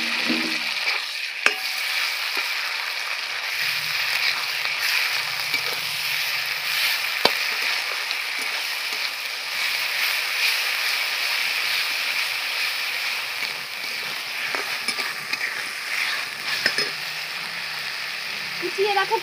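Ground spice paste for a catfish curry fries in a pan with a continuous close sizzle and hiss, broken by occasional stirring scrapes and clicks, with no talking.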